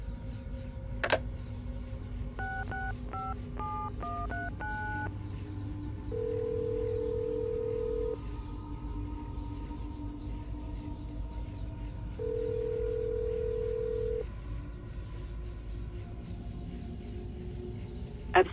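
Telephone dialing inside Assassin's Creed Brotherhood: a quick run of touch-tone key beeps, then two long steady tones a few seconds apart, over a low game ambience with a sharp click at the start.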